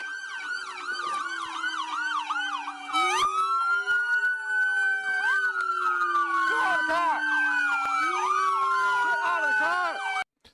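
Police car sirens wail and yelp continuously, loud and close, with overlapping tones shifting pitch as the siren patterns switch.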